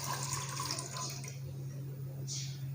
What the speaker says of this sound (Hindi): पानी जो मैंने 1/2 लीटर लिया है उसको हम एक पैन में डालेंगे।